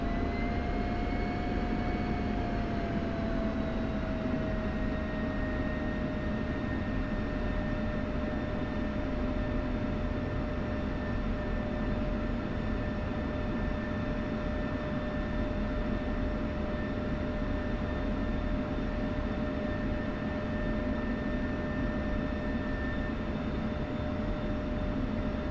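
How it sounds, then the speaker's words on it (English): An F-16 Viper jet taxiing in the DCS flight simulator, its engine giving a loud, continuous whine and roar with a tone that settles slightly lower early on, then holds steady throughout. "When you're ready, go ahead and taxi and hold behind me."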